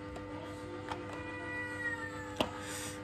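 A house cat meows indoors, a few faint, brief calls spread across a quiet room with a low steady hum beneath.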